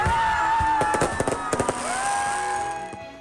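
Fireworks go off at a nighttime Christmas lighting ceremony with a life-size nativity scene and a giant Christmas tree, a quick run of sharp pops and crackling bursts over steady sustained tones, with a faint crowd murmur.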